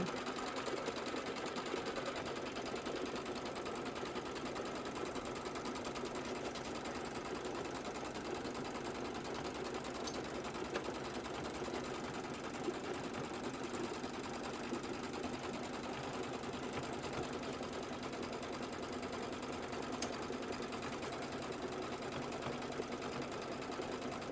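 A Kimberbell embroidery sewing machine stitches a quilt's outer border strip in the hoop, giving a steady, continuous fast whir and needle patter that runs unbroken at moderate level, with no talking.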